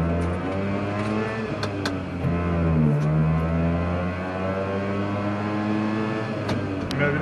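A Piaggio Ape 50 three-wheeler drives along, its small engine holding a steady buzzing drone with slight pitch dips as the speed shifts, close and continuous.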